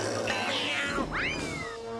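A cat meows in a drawn-out, rising and falling cry over steady background ambience, close and clear with no talking.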